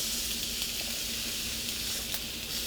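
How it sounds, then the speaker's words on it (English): Lamb chops sizzle steadily in a hot pan, a close, continuous broadband hiss with no voices over it. "I'm going to place my meat pieces on there."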